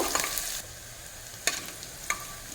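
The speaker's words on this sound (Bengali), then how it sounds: "পেঁয়াজের কাঁচা ভাবটা যাওয়া পর্যন্ত পেঁয়াজটাকে ভেজে নেব" Onions frying in hot oil while being stirred, giving a close hiss that starts strong and then settles into a softer sizzle, broken by two sharp utensil scrapes.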